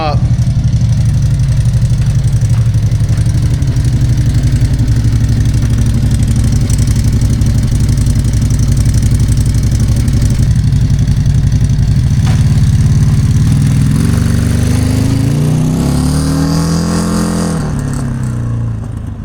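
A cold CFMoto Uforce 1000XL side-by-side idles steadily with a GSE Trail Tamer muffler, a loud, constant low engine drone held close throughout, then a light rev toward the end.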